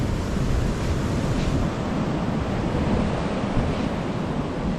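Sea waves wash onto the shore on Koh Lanta, a steady loud surf roar throughout with wind buffeting the microphone and no break in the sound.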